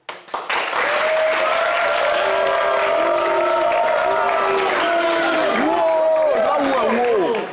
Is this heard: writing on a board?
no